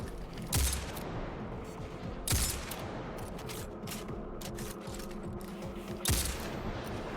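Distant gunfire in a Destiny 2 Master lost sector, a few sharp shots over a dense, steady din of combat and ambience, fairly quiet overall.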